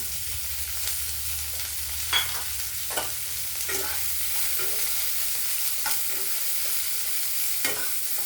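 Chopped onions, green chillies and dried red chillies fry in a pan for Bendakaya Kutu, a steady close sizzle broken by several sharp stirring scrapes.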